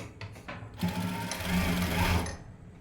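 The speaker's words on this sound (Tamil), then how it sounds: "பண்ணிவிட்டு இந்த இடத்துல வந்து தையல் போட்டுக்கலாம்." A sewing machine stitches the side seam of a blouse in a steady, close mechanical whir, with a brief stop-start at the beginning before settling into one continuous run that ends abruptly.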